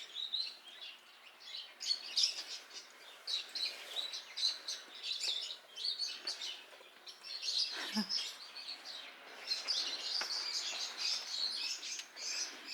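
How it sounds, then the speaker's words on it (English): Birds chirp and tweet almost continuously in a quiet traditional Korean hanok village in Jeonju or Gochang, their bright calls moderately close against a calm, empty background with no voices. "Instead of people, we can hear birds."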